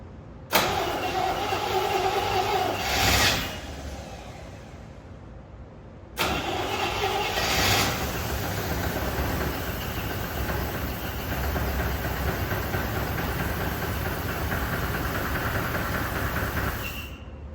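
An old 1974 Chevy C20 truck engine, after sitting 25 years, cranks and catches twice, then settles into a rough, steady running rumble that continues loud and close.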